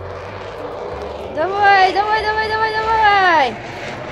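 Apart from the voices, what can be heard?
toy airplane engine sound effect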